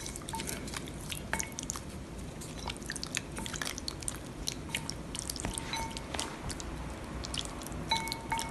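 Seasoned chicken for karaage is stirred in a bowl, giving a steady run of soft, wet, squishy clicks and ticks at close range with no voices.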